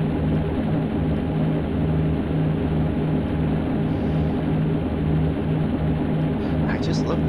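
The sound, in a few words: propeller airplane engine in the video game Aces High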